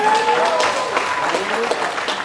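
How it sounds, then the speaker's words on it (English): Audience applause for a graduating class at a community awards ceremony, steady clapping with voices talking over it throughout. "A round of applause for all of you and all that you've accomplished."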